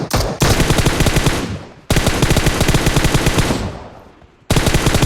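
Loud, rapid automatic gunfire in the video game PUBG Mobile, three long sustained bursts of fast repeating shots with brief gaps between them, close and dominant.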